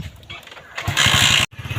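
A motorcycle engine chugs and revs in uneven bursts, with a louder, harsher stretch near the middle. It drops out briefly, then resumes.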